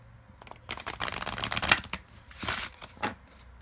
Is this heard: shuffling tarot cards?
yes